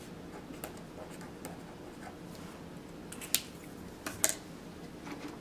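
A Paper Mate Flare felt-tip pen writing on a paper planner insert, soft scratchy strokes close up with a few sharper taps and clicks, quiet and without talk.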